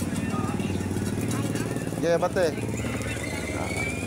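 Motorcycle engine puttering nearby with a steady low rhythmic throb, heard beneath a person talking briefly.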